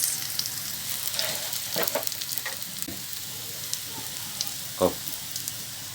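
Turmeric and chili powder fry in hot oil in a pan, with ginger paste stirred in for a Bengali fish curry with taro stems. A steady soft sizzle hisses throughout, broken by occasional stirring scrapes and a brief louder crackle.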